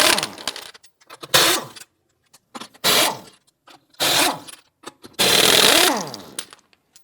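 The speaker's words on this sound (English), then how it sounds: "Using a 19mm socket, loosen and remove the lug nuts." Lug nuts come off a 1997-2006 Jeep Wrangler rear wheel with a 19mm socket on a power tool. Several short, loud bursts of whirring impact rattle are separated by brief pauses, close by and with no talk.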